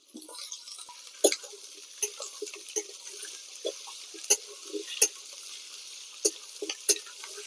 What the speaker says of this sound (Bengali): কাঁঠাল এবং আলু আমি এখানে 5 মিনিট এভাবেই ভেজে নিয়েছি